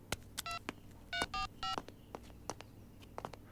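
Telephone keypad tones as a call is dialed: a sequence of short, clear beeps in irregular rhythm, some longer pairs, over quiet background with faint clicks.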